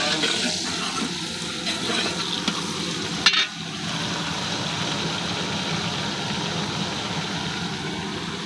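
Chopped onion frying and being stirred in a pan during home village cooking, a steady close sizzle with scraping strokes and one sharp metallic clank partway through, no voices.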